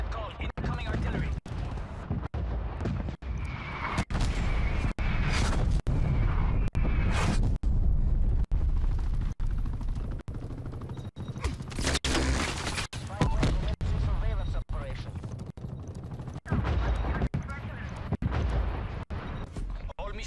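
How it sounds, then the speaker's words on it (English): An incoming artillery strike in Call of Duty: Black Ops: dense, continuous rumbling blasts and gunfire crackle with repeated sharp impacts across the whole stretch, loud and close, with voices heard over the barrage. "Net call, incoming artillery."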